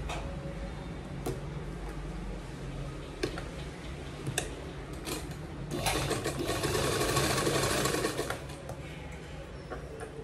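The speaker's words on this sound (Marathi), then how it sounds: "अस्तरवर इथे अगदी किनाऱ्यावरून अशी इथे अस्तरवरून इथून किनाऱ्यावरून दाब शिलाई मारून घ्यायची" A sewing machine stitches along the lining edge of a girl's gown, a quiet steady ticking run that swells louder in a faster burst midway, close by.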